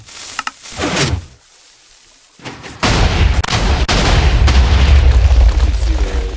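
A Minecraft TNT cannon on a PvP server fires in a rapid string of heavy booms that roll into a dense, continuous blast of explosions, loud and close throughout.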